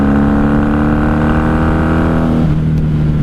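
A 1994 third-generation Honda Magna 750 cc motorcycle engine drones loudly and close under acceleration, then its tone drops noticeably near the end as the revs fall.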